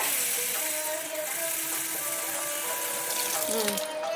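Water poured steadily into a biryani pot of carrot and soya chunks, a continuous close splashing gush that runs for the whole few seconds without pause and with no talking over it.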